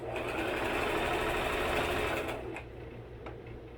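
A sewing machine stitching tablecloths runs steadily at close range with a fast, dense mechanical clatter, then slows and quiets near the end.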